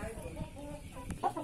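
A broody hen clucks inside a henhouse, a few soft low clucks close by ending in a sharper, louder call.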